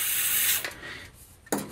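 Air is blown hard through the nozzle of a diesel/kerosene forced-air heater, giving a close, loud hissing rush that cuts off, followed by a second short burst.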